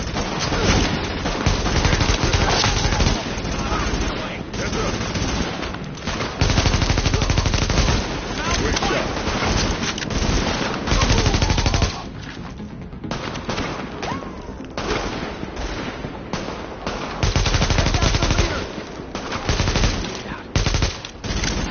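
Sustained automatic gunfire from the video game The Division, loud and dense rapid bursts that run almost continuously with only short lulls, while shouted in-game voice lines mix beneath the shooting.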